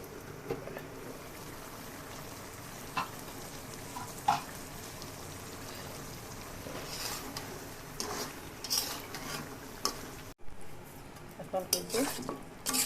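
Chicken curry sautéing in oil with a utensil stirring and scraping the pot, a steady low sizzle beneath irregular clinks and scrapes, nearby and moderately loud, with a brief drop near the end.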